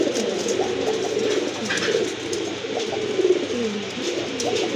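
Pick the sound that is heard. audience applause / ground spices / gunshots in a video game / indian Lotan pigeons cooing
indian Lotan pigeons cooing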